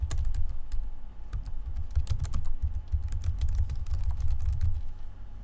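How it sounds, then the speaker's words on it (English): A photo caption is typed on a computer keyboard: rapid, uneven key clicks rattle steadily over a low background hum, close and continuous with no voices. "I can then go ahead and type in a small note or caption about that photo."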